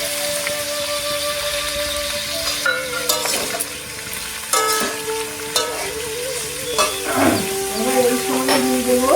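Mixed vegetables with cashews and raisins frying in a pan for veg pulao, a continuous loud sizzle broken by repeated clattering stirs of a spoon against the pan.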